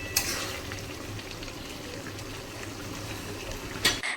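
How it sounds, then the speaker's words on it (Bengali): Potato and ridge gourd posto being stirred in a pan with mustard oil, a soft steady sizzle and bubbling with a few faint scrapes near the start and end. "ভালো করে মিশিয়ে নেব।"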